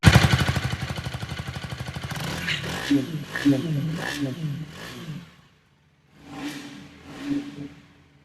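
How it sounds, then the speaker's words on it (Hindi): A KTM Duke 250 motorcycle engine idles with a rapid pulsing exhaust thump, then someone talks over the running engine, which falls quiet before he speaks again. "यहाँ पे बाइक स्टार्ट है तो एक बार एग्जॉस्ट की साउंड सुना दूं"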